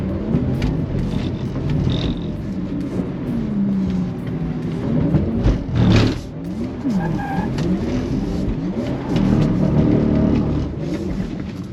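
An electric Porsche drifts on a track, its tires squealing and skidding in long wavering sweeps with little motor noise, with one sharp louder burst midway through.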